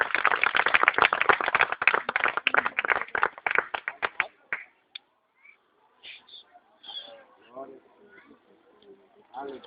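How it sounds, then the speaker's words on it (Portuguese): A congregation applauds at a church baptism service, with loud, rapid clapping that fades out after about four seconds, followed by scattered voices and murmuring. "Pode aplaudir Jesus"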